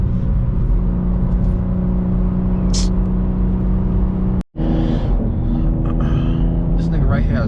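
A tuned BMW M2 cruises a New York City highway, its engine holding a loud, steady droning hum inside the cabin with road roar beneath, broken by one brief dropout midway.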